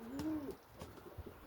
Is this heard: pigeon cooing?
yes